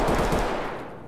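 Automatic gunfire from the shooter game Escape From Tarkov, a quick rattling burst of rapid shots, loud and close, that fades away within about a second.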